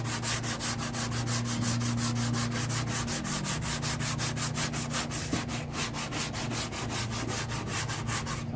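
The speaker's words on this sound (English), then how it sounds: "I'm kind of sanding around this area." Body filler being sanded by hand on the driver's quarter panel of a 2003 Cadillac CTS, with steady rhythmic rubbing strokes repeating close up, alone with no voices.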